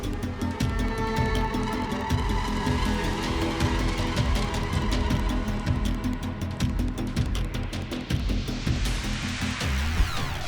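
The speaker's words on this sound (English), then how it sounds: "A semi-truck lost control, skidded off the highway, and barreled through the median in a split second" A semi-truck losing control and skidding off a highway through the median, heard as a loud, continuous roar of tires and rushing road noise with scraping, skidding texture and no voices.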